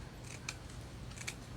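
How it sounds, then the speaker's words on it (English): Small Tim Holtz scissors trim paper in two quick close snips roughly a second apart, over a quiet room background. "I'll trim this down. I'm using these little Tim Holtz scissors"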